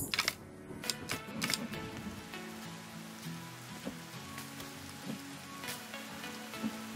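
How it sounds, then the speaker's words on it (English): Rain in The Forest VR game patters and hisses softly as a steady wash, with a few sharper clicks and knocks near the start, faint and even, no talking. "the rain's gonna put out our fire"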